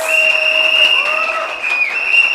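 Applause for the speakers at an evening outdoor political meeting, a crowd clapping beneath a loud, sustained whistle tone that dominates throughout.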